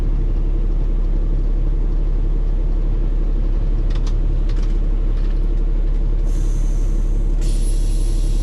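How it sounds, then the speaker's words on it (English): A semi truck tractor at Iowa Speedway idles with a loud, steady engine rumble, then its air brakes release in sharp, sustained high hisses that start abruptly near the end. "That's what I get for not waiting for my tractor brakes to release all the way"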